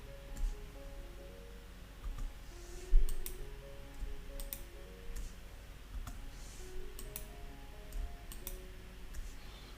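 A computer mouse clicks faintly and sparsely, giving a dozen or so short, sharp taps at irregular intervals over a low background hum, with no talking.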